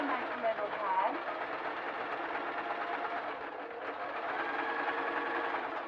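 A sewing machine stitches a small folded hem on fabric for an English saddle seat warmer, giving a steady close rapid whirring chatter throughout, with no pauses.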